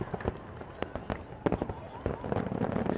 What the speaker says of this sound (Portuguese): O barulho alto dos fogos de artifício pode causar medo e pânico em cães e gatos.